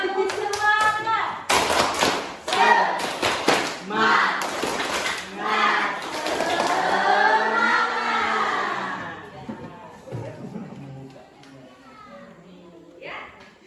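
Rhythmic clapping chant in a classroom, a group clapping in patterned bursts between spoken and chanted words; claps are sharp and close, interleaved with voices throughout.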